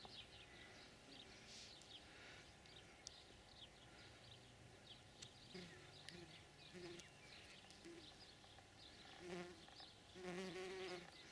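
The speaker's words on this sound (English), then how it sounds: "It's a busy life for a little bee." A white-tailed bumblebee buzzes faintly in a June garden among poppies and strawberries, its drone rising and fading as it moves, with soft birdsong and a quiet voice in the background.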